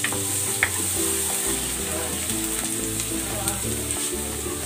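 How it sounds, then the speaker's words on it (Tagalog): Ginger and garlic sautéing in a pan for squid adobo, a loud, dense, steady sizzle close up with faint scraping touches and a low background hum. "Igigisa ko na tong luya. Ilalagay ko na rin tong bawang."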